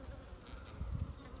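Honeybees hum softly around an open hive frame where the queen is laying, a faint, steady close-range buzz with individual bees droning past.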